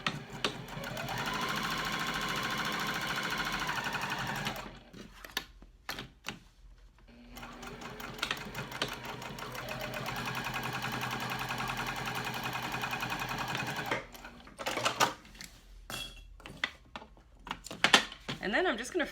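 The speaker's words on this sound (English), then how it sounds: "now I just need to pop over to the machine and I'm going to stitch across the top" A sewing machine stitches across the top of a fabric teddy backpack with a quarter-inch seam, running in two long steady bursts with a pause between and some handling clatter at the end.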